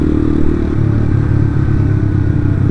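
Steady, loud engine drone of a Yamaha Byson FZ16 motorcycle fitted with a Tiger carburettor while riding, a continuous low rumble with a slight shift in pitch partway through.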